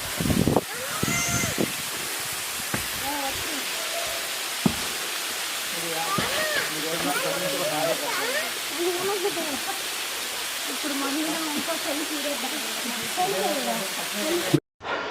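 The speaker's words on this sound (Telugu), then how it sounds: "చూడండి వాటర్ ఫాల్స్" Broad rushing roar of a forest waterfall in Lankamala forest fills the background while people talk over it and birds chirp; the water noise stays constant throughout.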